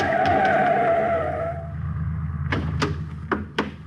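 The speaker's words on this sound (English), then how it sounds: "He comes to the intersection of a street and alley just as a car turns the corner." Radio drama sound effect of a car turning a street corner, with a sustained tire screech fading out, then a few sharp knocks over a low engine rumble, and no voices.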